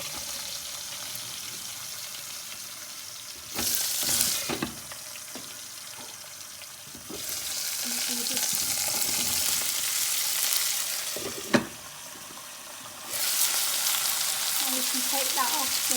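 Cauliflower and potato pieces frying in hot oil for an Indian curry, with loud sizzling bursts as the vegetables hit the pan, brief splashes and clatter between them, under a steady kitchen background.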